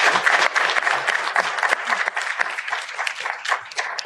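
Warm audience clapping for a panel at the close of an investment event in Philadelphia, a lively patter of many hands that stays fairly loud throughout.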